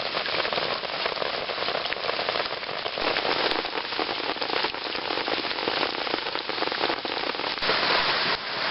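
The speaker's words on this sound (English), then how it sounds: "the rain slacked off enough that I can get out from my shelter" Heavy jungle rain drums steadily on a tarp shelter, a dense, loud, unbroken patter with sharp drop crackles and no voices.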